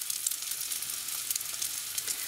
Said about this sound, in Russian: я их очень быстро обжариваю до образования корочки